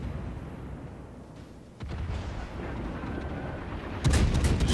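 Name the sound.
naval guns firing shells in World of Warships video game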